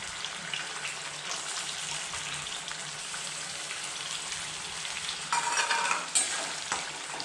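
Boiled onion, garlic and ginger paste sautéing in a pan for a chicken bharta, a steady broadband sizzle with scraping stir strokes throughout, growing louder and busier near the end; no talking.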